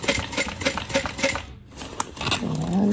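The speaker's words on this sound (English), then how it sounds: "I'm just going to back stitch a couple of stitches" A sewing machine back stitches a few stitches along the seam of a bag, giving rapid mechanical clicking bursts with a short pause midway, close and fairly loud, with no talking.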